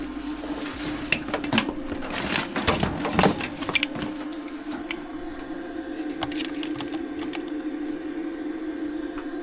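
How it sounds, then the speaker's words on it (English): A 160 amp flux core welder runs steadily, with a persistent mid-range hum and crackling, spitting bursts that cluster early before settling into an even buzz, close and moderately loud with no talking. "This is a flux core welder. It is 160 amp, I think."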